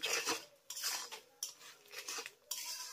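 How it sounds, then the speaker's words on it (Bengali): A utensil scrapes and stirs spices in a pan for bhoger khichuri over a medium-low gas flame, in repeated close scraping strokes with brief pauses between them and no talking. "এবার আমি সমস্ত মশলার উপকরণগুলোকে এইভাবে নেড়েচেড়ে খুব ভালো করে কষিয়ে নেব।"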